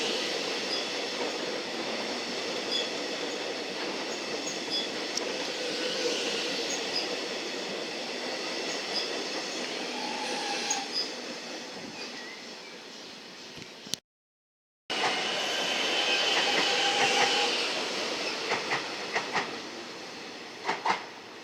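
Melbourne Metro train running through Newmarket station, a sustained rumbling roll of carriages with occasional wheel squeal and clatter, moderately close, briefly cutting out midway before resuming.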